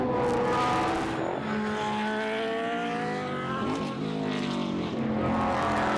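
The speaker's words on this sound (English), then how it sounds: "Just listen to that engine note." Racing car engines roar past loudly, pitch sweeping up and down as they rev and shift, one after another close by.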